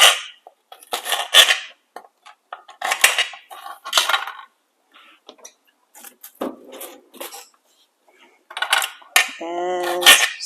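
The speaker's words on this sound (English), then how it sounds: "we'll grab a knife and we'll start chopping." A knife chopping and slicing vegetables for a slow cooker plant-based soup, heard as short irregular clicks and taps on a cutting board with brief pauses, close and fairly clear.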